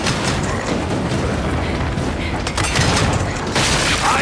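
A flashbang grenade goes off in the video game Gears 5, a loud sustained blast with a roaring, ringing wash of noise that swells again near the end.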